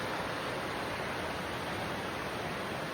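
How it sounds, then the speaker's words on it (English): Swift Creek, a mountain creek at a trail crossing, rushing and splashing in a steady broadband roar that stays constant and close, with no voices over it. "Creek. It's a creek. It's not a stream. It's not a river. It's Swift Creek."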